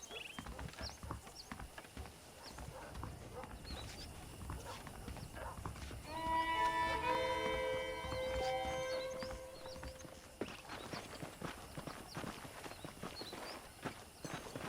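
Horse hooves clip-clop at a steady walking pace in the video game Red Dead Redemption on Nintendo Switch, close and continuous, with a horse's whinny in the middle over soft ambient game sound.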